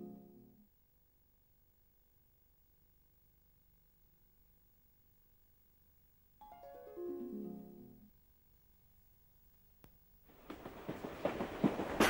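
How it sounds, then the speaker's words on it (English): A train passes with a whistle-like tone sliding downward, then a burst of loud, rushing rail noise building toward the end. "Train."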